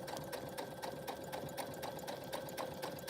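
A sewing machine running steadily, its rapid rhythmic stitching clatter continuous and fairly quiet, with no voices.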